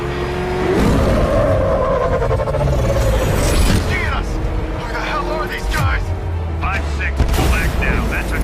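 The Batmobile tears along in Batman: Arkham Knight, a dense roar of engine and tyres mixed with booms and gunfire-like bursts, loud and continuous throughout.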